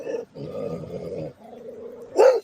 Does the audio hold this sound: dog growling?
yes